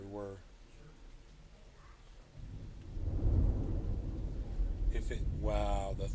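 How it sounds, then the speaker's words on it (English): Thunder from a thunderstorm rolls in as a deep, rising rumble that swells midway and keeps going, with faint rain behind it and brief bursts of a voice at the start and end. "Wow, the thunder though,"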